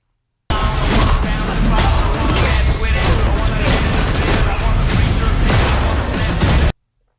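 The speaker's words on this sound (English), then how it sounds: "It's like fighting and people shooting and people bashing each other's heads in." A bar brawl shootout from the action film Havoc: dense, continuous gunfire bursts, crashes and impacts pile up loudly without pause for about six seconds, in a thick cinematic mix.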